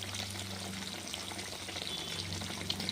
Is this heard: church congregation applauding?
no